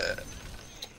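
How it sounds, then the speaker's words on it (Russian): One short, low burp from a person, close and alone, with a brief faint click near the end. "Зачем рыгаешь?"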